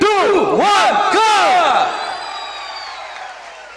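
A festival crowd at a Puttur food fest roars and cheers loudly together after a countdown, the burst fading off over a few seconds.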